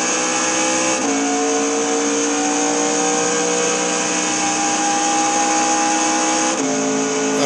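An in-car race car at Le Mans climbs through the gears up to sixth at over 200 mph, a loud, continuous engine whine that rises in pitch and drops at each upshift.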